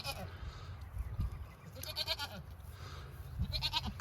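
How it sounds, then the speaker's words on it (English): Goats bleat in a garden setting, several overlapping nasal calls in short bursts at moderate distance amid background noise, with a voice speaking faintly under them. "And then of course we got these goats over here."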